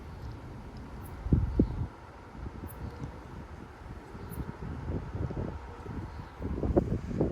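Strong 40 to 50 mph wind gusts sweep through Frisco, Texas, a steady low roar with buffeting surges against the microphone, swelling loudest in a couple of bursts near the start and the end.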